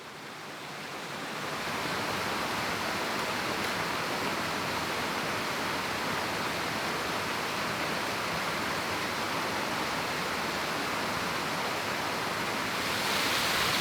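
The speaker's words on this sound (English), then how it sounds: "it certainly shows you the distance between the cascade and the back waterfall" Steady, loud broadband rush of a waterfall and cascade pouring continuously, a constant roar that swells in after the first moment with no voices.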